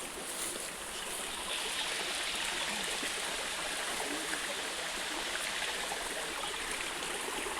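Forest stream water flows steadily and loudly with a continuous broadband rush, no voices, while dogs bathe nearby.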